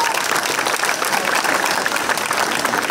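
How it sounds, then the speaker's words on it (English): A county fair crowd at a 4-H talent show claps loudly and steadily, close dense applause with no voices over it. "let's give them a round of applause"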